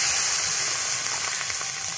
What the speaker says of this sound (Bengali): এখন আমি পরিমাণ মতন জলটা দিয়ে দিলাম